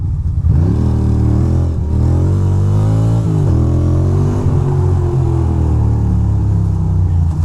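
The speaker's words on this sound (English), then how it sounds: "That was a drift." A car drifting, its engine revving and roaring in rising and falling sweeps with a loud, close, continuous rumble and no talk over it.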